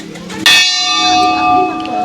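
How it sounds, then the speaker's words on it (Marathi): A single temple bell at the Golu Devta shrine in Uttarakhand is struck once, ringing out with a bright clang and a long, steady metallic hum that lingers near and loud. "घंटी बघा."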